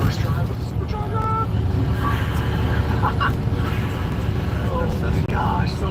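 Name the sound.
supercharged truck's blower whine on first drive, stock exhaust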